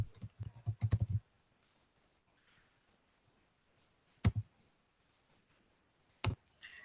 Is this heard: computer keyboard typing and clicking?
yes